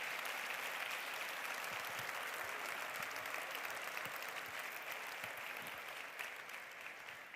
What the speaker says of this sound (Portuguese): Pode aplaudir Jesus mesmo, pode aplaudir Jesus mesmo, é muito bom.